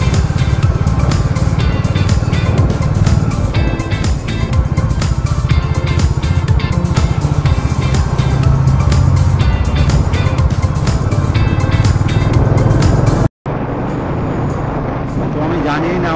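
Onboard noise from a motorcycle riding along a highway near the Kolaghat toll gate: a dense, loud, constant roar of engine and wind that cuts out briefly near the end, then returns quieter.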